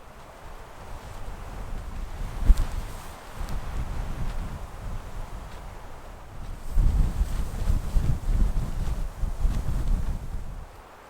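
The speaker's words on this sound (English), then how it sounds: "I wanted wind, but I think I may be gonna get a little too much." Strong wind gusting outdoors in the Scottish wilderness, a continuous roaring buffet that swells and eases in waves and buffets the microphone, loud and with no talking.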